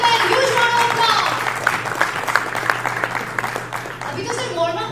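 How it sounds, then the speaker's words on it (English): Round of applause from the audience at a blockchain summit in Gujarat, steady crowd clapping blended with cheering and voices, with a low hum running underneath. "Ladies and gentlemen, huge round of applause."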